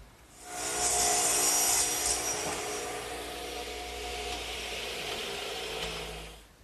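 A saw cuts a 41.5-degree angled piece of wood for a garden swing, a continuous rasping, whining cut lasting about six seconds, loud and close, with no voices.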